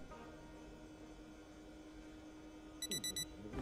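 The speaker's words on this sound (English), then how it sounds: "That's my alarm." In the video game Project Zomboid, an alarm clock sounds four short, bright electronic beeps in quick succession near the end, after a stretch of steady low background hum.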